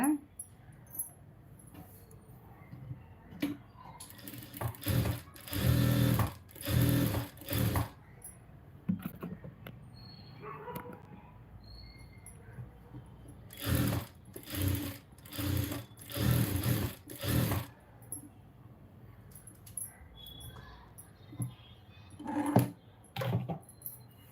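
A sewing machine stitches a quarter-inch seam around the neckline of a lined blouse, running in several short, fast bursts separated by pauses, fairly close, with faint background sounds between runs.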